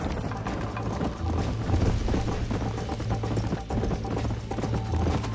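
Horses galloping in the video game Red Dead Redemption give a fast, continuous drumming of hooves with a rattle of tack, loud and close throughout.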